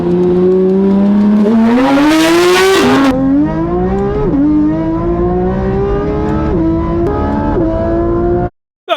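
A Porsche GT3 RS race car accelerates hard through the gears, its engine note climbing in pitch with several brief dips at the shifts. The roar is loud and close, with a short burst of higher hiss early on.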